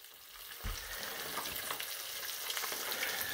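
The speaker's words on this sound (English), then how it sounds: "Alright, frying up some eggs now." Eggs frying in a pan at an off-grid cabin for a Spam and eggs breakfast, a steady close sizzle and crackle with a few louder pops and stirring scrapes, no talking.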